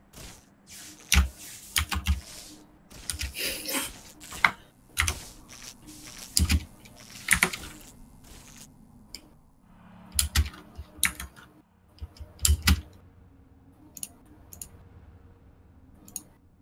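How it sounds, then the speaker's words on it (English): Computer keyboard keys click in irregular bursts and rapid clusters during an online Among Us game session, sometimes several quick taps together with pauses between, close and fairly loud. "Riri, we can hear you clicking."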